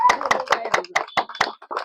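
A small group claps hands in a steady, fairly quick rhythm during a bottle-matching party game, about eight sharp, close claps over two seconds with no talk over them.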